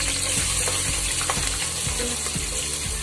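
Onions and green chillies fry in hot oil with a dense, constant sizzle, broken by regular scraping clicks as a utensil stirs them in the pan.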